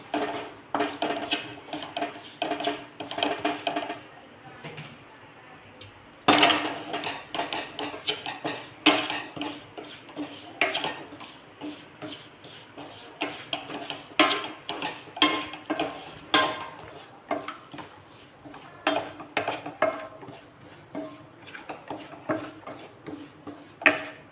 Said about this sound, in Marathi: तूप टाकून आपण हा रवा छान मस्तपैकी भाजून घेऊया।